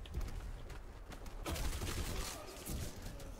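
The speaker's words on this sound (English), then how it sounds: "it's gonna be nothing but explosions and bullets flying all over the place" Rapid gunfire and explosions fill a chaotic firefight in the shooter game Black Squad, with clustered bursts of shots and heavy thuds rattling on continuously at close range.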